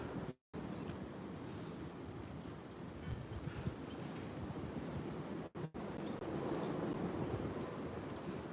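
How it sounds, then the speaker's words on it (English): Steady, loud wind roaring and buffeting the microphone throughout, with two brief dropouts. "it's windy"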